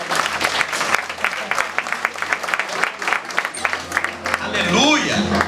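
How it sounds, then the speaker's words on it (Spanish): Rhythmic clapping from a church congregation, sharp separate claps in a loose beat, with voices and sung or shouted tones rising toward the end. "Dar un fuerte aplauso al Señor."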